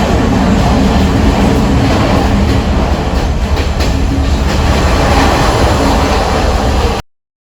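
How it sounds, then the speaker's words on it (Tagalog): A train rolls past in Colombo, Sri Lanka, a steady loud rumble of wheels and railcars with faint clickety-clack, continuous and close for about seven seconds before cutting off. "Kita nyo, pati yung train."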